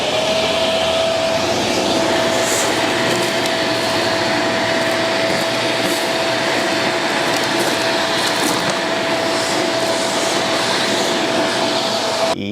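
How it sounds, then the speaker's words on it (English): Airthereal T1 touchless vacuum dustpan running its hose on the higher power setting to suck up floor debris, a loud steady whine with a constant tone and occasional rattling clicks of debris, close and without talk. "we got this opening for the hose. So we're going to see how well this sucks it up, and I'm going to use the higher power setting"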